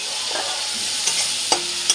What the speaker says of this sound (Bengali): দেখো মশলাটা ভাজা হচ্ছে।